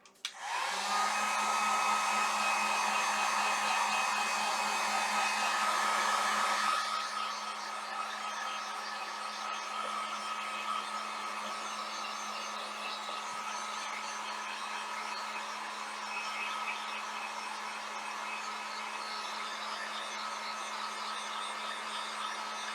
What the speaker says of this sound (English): So I'm going to take my heat gun and I'm going to dry these.